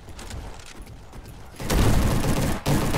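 A gun in the Roblox game Bad Business fires in a loud, rapid burst that starts partway through after a quieter lead-in, briefly pauses, then resumes.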